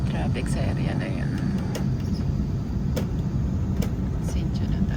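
Steady road traffic noise on a rainy day in Taiwan, a continuous low rumble of passing cars with occasional sharper transients, with a voice talking over it.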